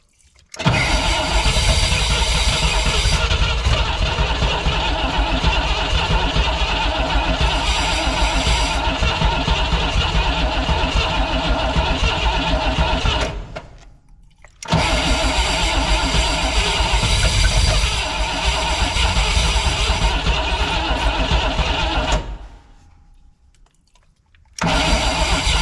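A starter cranks the engine of a 1959 or 1960 Pontiac Bonneville convertible barn find, loud and close in two long sustained bursts with a brief pause between them and a fade at the end, with no talk.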